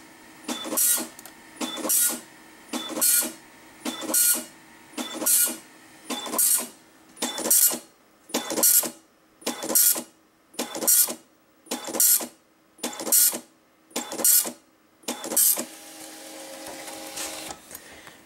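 An Apple ImageWriter II dot matrix printer printing from a PC, with loud, regular bursts of buzzing print-head passes separated by short pauses, about fifteen strokes in a steady rhythm, heard close and alone.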